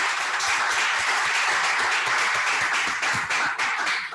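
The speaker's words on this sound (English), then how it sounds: "a round of applause" An audience at a mathematics lecture on operadic deformation theory breaks into sustained applause, many hands clapping together in a steady, fairly close wash for several seconds.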